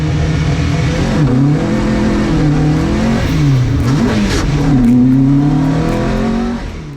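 A Marcos race car accelerates hard off the line at a race start at Donington, its engine loud and close, revving up and dropping through gear changes, with pitch swinging up and down continuously.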